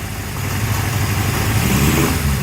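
A Honda CB750F Super Sport motorcycle engine runs steadily, a close, loud, even idle with a faint rise in revs toward the end.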